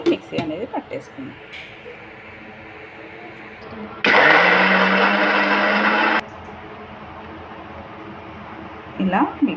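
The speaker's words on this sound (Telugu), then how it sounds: "ఇప్పుడు మూత పెట్టేసి మిక్సీ అనేది పట్టేసుకుందాం." A kitchen mixer grinder whirs loudly for about two seconds as it grinds soaked fenugreek seeds with curd into a thick paste, with talking before and after the burst.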